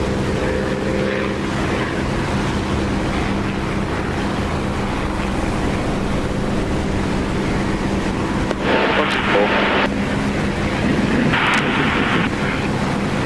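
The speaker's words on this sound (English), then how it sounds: "the engine sound gets a fraction louder, as it should really with the canopy open" Steady, loud aircraft engine drone in the DCS flight simulator with the canopy open on the runway, a continuous broadband roar with a couple of brief brighter hissing surges.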